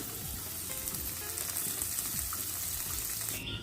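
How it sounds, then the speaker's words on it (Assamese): Chickpeas sizzle and crackle steadily in hot oil in a pan, a continuous close frying hiss with occasional light stirring. "এয়া মোৰ বুট ভাজি হৈ গ'ল"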